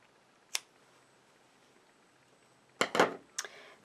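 Scissors cut through jacket lining fabric in a quiet room, one short snip followed after a pause by a quick cluster of three or four crisp cuts up close.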